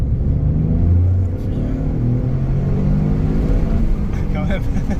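Toyota GR Corolla three-cylinder engine pulling through a gentle acceleration on a 70 km/h road, a steady low rumble with rising tonal engine notes, heard from inside the car.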